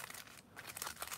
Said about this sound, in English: I'm going to give them a little bit of a shuffle.